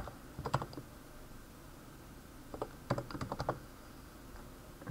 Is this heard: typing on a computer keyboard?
yes